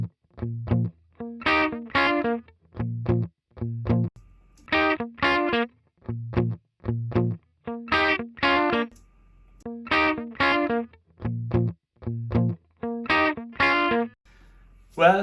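Overdriven bridge-pickup tone from a Gibson Murphy Lab electric guitar, played as short rhythmic chord stabs in a steady repeating pattern with brief gaps between bursts. The guitar is loud and close, and no one speaks.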